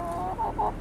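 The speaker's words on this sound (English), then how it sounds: "Crazy chicken." Chicken clucking in a desert backyard garden, a short run of three mid-pitched clucks in a quick uneven rhythm, close and moderately loud over a steady low background hum.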